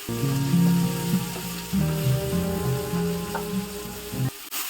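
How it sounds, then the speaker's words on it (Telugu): Chopped onions and green chillies fry in hot oil, giving a steady loud sizzle and crackle with some stirring scrapes. A brief clatter comes near the end. "ఆయిల్ వేడెక్కాక అందులో జీలకర్ర తాలింపు గింజలు వేసుకొని అవి వేగాక అందులో ఉల్లిపాయ ముక్కలను వేసుకోవాలి"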